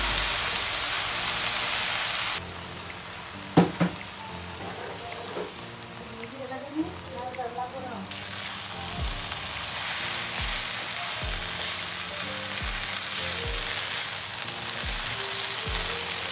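Water spinach and shrimp frying in a pan, a steady bright sizzle that softens mid-way as the food is stirred and turned, with soft scraping and clinks.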